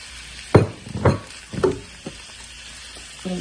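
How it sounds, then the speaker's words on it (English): Vegetables tipped into a hot frying pan while cooking vetkoek, green peas and carrots landing with a few separate sizzling bursts and clatters, fairly close, with quiet gaps between. "So I will be putting the green peas now and the carrots."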